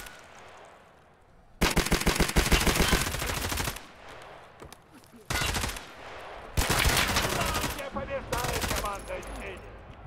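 Rapid automatic weapon fire in a video game, loud dense bursts of many shots in four long strings separated by short pauses, played close and dominant.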